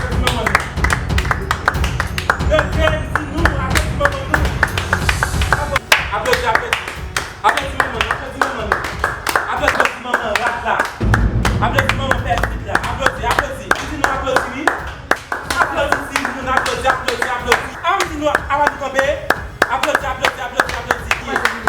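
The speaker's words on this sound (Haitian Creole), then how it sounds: "Applaudissez maman." Hands clap repeatedly in applause, a loud, dense run of claps that continues throughout while several people talk and shout over it.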